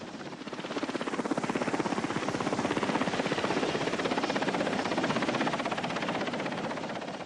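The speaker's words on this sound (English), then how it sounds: "evacuation helicopters were among the most admired troops serving in Vietnam" An evacuation helicopter in the Vietnam War flies overhead, its rotor beating in a fast, even throb that swells and then fades slightly, loud and steady throughout with no voices.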